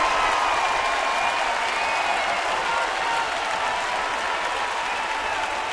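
A big baseball crowd of more than 42,000 at Miller Park cheers and applauds in a steady, loud roar that fills the whole stretch, with no talk over it.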